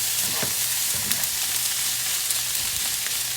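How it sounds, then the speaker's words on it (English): Pineapple pieces are stirred into chicken fried rice frying in a pan, giving a continuous close hiss of sizzling with a few soft scraping stirs. "I'm going to add in that yummy pineapple. So we're just going to pop that in, give that a quick stir"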